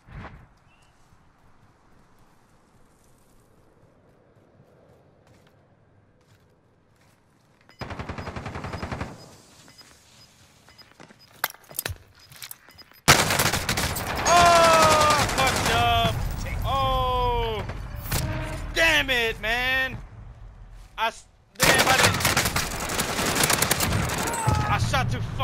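Video game gunfire in Trios Resurgence rings out in loud, dense bursts with rapid shots, layered over game effects and excited players talking.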